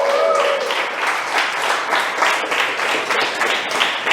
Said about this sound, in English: a round of applause for my friend over here who just got married